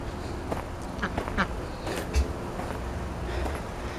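Ducks quack in a fruit garden, several short nasal calls scattered over steady outdoor background noise, at moderate distance.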